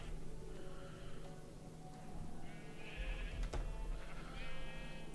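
Sheep bleat in Minecraft, several wavering bleats repeating over a steady ambient game background, fairly clear and unaccompanied by talk.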